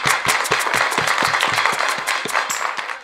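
A comedy stage performance audience breaking into applause: dense, rapid clapping from many hands, loud and close, holding steady then thinning slightly at the end, with no voices over it.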